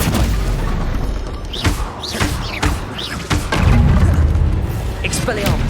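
Bombarda and Confringo spell blasts booming in a Hogwarts Legacy duel, a string of loud thuds and crashing impacts with whooshing casts, under a voice calling out spell names.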